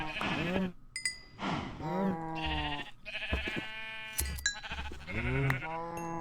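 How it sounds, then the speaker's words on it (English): Sheep in the video game Minecraft bleat repeatedly, several close, loud, wavering calls following one another in quick succession with short gaps. "now I'm gonna kill off the sheep again"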